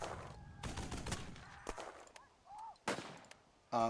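Mortar rounds firing in the Burden of Command strategy game, a string of sharp, loud broadband bangs scattered across a few seconds, with brief tonal interface chirps between them and a final burst at the end.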